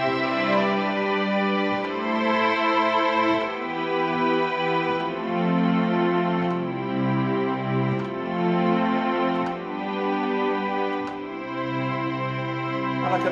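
Strings voice on a Casio PX770 Privia digital piano, sustained layered chords swelling and shifting smoothly, held continuously with no talking over them.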